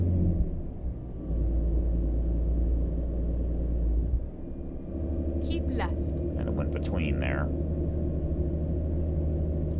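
A Freightliner Cascadia truck engine in American Truck Simulator holds a low gear with a steady, heavy rumble. A brief dip comes midway, and a voice talks over the later part.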